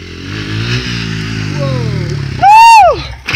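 A small motorcycle revs through a riding stunt, its engine rising and falling in pitch at close range before a sharp, loud high-revving burst near the end.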